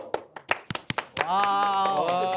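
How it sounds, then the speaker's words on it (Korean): Around eight sharp, irregular hand claps ring out close by on a Korean TV competition show, then give way to a sustained, tonal musical sound. "박수."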